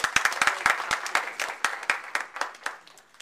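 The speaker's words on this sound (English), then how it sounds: "So a round of applause to everyone in this room." Applause from a roomful of people at a health care policy gathering: sharp, distinct claps in a steady patter that thins out toward the end, fairly close, with no talking over it.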